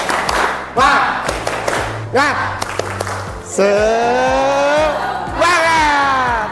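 A Hindu religious arts class in Indonesia performs a rhythmic group clapping game, sharp synchronized claps interspersed with loud chanted and sung voices, close and lively.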